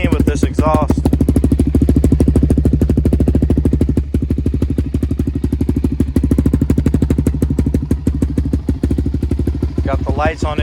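A 2006 Suzuki LTZ400 quad runs with an aftermarket exhaust, its loud, rapid, even engine firing steady and close throughout, with a brief voice near the start and end.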